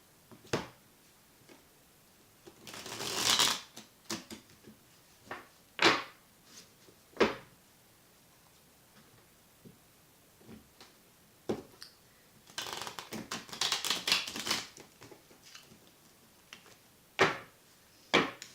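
A tarot card deck is riffled and shuffled close by: two longer fluttering bursts with scattered light taps and clicks between them, and no talking.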